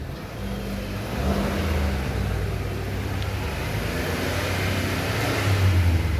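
A 2022 Mitsubishi Mirage, which smokes and lacks power, has its engine revved after its PCV valve is cleaned; a moderate, continuous engine drone rises slightly and holds steady, with a brief louder surge near the end.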